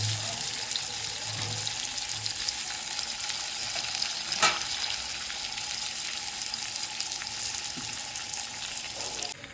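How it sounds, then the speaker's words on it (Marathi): Marinated fish frying in a pan Kerala style, a steady dense sizzle of hot oil running throughout, with a soft clink around the middle and faint stirring near the end; no voices. "मासा फ्राय करायला ठेवलेला आहे"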